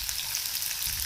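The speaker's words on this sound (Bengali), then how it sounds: "এবার আমি দিয়ে দেবো পেঁয়াজ" Chopped onions frying in a hot pan for a potato-filled bun dosa, a steady close sizzle with a bright, hissing crackle that runs without a break and carries no talk.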